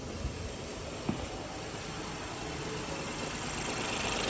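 A Ford EcoBoost car engine with a previously rattling actuator arm runs at a steady idle, a faint, even rumble with one small knock near the start and a slight rise in level toward the end.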